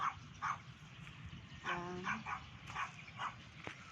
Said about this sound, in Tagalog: May aso kasi dun eh.